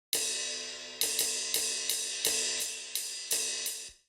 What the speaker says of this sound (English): These are the cymbals